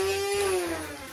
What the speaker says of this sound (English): That's a very nice rev up time out of this blaster